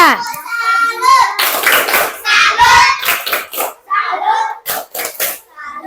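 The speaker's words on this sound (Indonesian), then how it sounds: "tepuk salut untuk keduanya" Classroom of children doing a rhythmic 'tepuk salut' salute clap, bursts of sharp clapping alternating with chanted young voices, close and loud.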